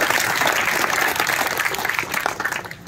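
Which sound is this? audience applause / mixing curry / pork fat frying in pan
audience applause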